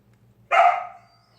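A single short dog bark rings out close by, a sharp, bright yelp that fades quickly against a faint low hum in an otherwise quiet room.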